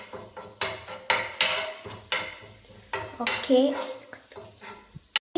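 Spices such as chilli powder and chilli flakes being stirred into food in a bowl, with repeated scraping and clinking strokes in an irregular rhythm, close and moderately loud, with a brief spoken word.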